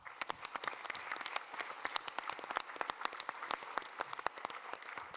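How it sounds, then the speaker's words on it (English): Attendees at a Fort Lee town reorganization meeting give themselves a round of applause: quick, irregular claps from a modest group of people, fairly close and crisp, with no talking. "give yourselves a round of applause"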